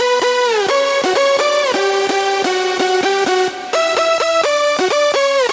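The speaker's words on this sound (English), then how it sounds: "And actually the lead sounds like this without processing." An unprocessed synth lead for a progressive house track plays a rhythmic melody of bright, harmonically rich notes with gliding pitch changes, loud and continuous apart from one brief dip.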